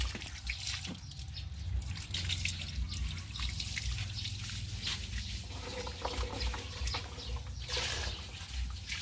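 Fingerroot, cha-om and other curry ingredients for a bitter cassia leaf curry are washed in water, with close splashing, trickling and dripping sounds that continue unevenly with no talking.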